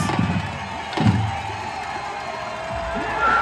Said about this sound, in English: Needless to say, the crowd went nuts.